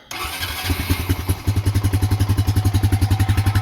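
A 2003 Honda Rancher 350 ATV engine starting up nearby: a short cranking rattle, then it catches and settles into a loud, even, pulsing idle, with no talking.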